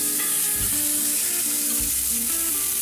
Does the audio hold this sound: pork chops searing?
yes